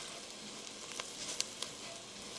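Spices and onions dry toasting in a pot for chili give a steady, soft sizzle throughout, with a few faint clicks of a spoon or stir near the end, close up and with no talk.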